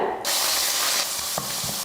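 Hot oil crackles and hisses loudly as mustard and cumin seeds splutter in a pan, a dense continuous sizzle with a few small pops near the end.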